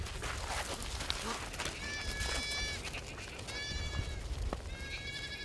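Goats and sheep on a small Mongolian family farm with forty-one animals, bleating in several separate wavering calls over windy outdoor noise and shuffling, fairly close and moderately loud.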